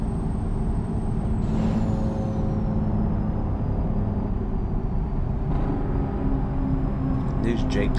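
A CR England semi truck in American Truck Simulator uses its Jake brake for engine braking, giving a steady, close, droning rumble. A faint whining tone slowly drops in pitch underneath.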